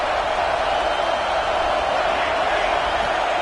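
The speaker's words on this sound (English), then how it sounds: "This crowd trying to make life miserable for this offense." Stadium crowd noise roars in College Football 26 during a Washington versus USC game, a dense, constant wash of cheering that stays loud and even throughout, with no distinct individual voices.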